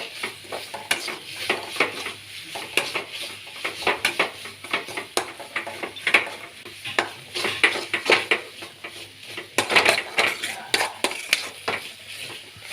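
A spoon stirs tomato and onion chutney with chili powder in a hot pan, making repeated scraping knocks over a steady soft sizzle, close and alone.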